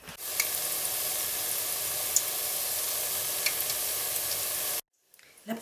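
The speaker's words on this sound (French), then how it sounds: "je vais faire tomber des petites boulettes dans l'huile de friture" Small balls of dough for sugar beignets fry in hot oil with a dense, steady sizzle and scattered pops, close and constant, cutting off abruptly near the end.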